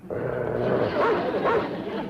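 A dog in a classic western TV comedy scene barks and yips in a few short bursts, close and fairly loud against a steady background hum.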